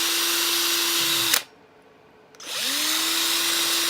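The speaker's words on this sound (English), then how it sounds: "Drill a couple of holes." A power drill whirs steadily drilling holes in an X-Wing helmet, stops abruptly for about a second, then spins back up and keeps running, loud and close.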